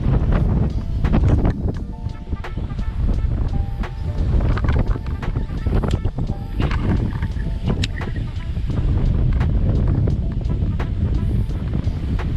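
Gusty wind buffets a lake shore during spring bass fishing, roaring steadily and close throughout with broadband rumble, mixed with faint water and boat-like noise.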